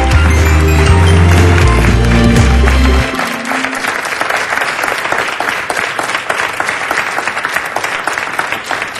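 Loud studio audience applause on a Portuguese TV show, dense clapping that swells and carries on steadily after brief music fades out.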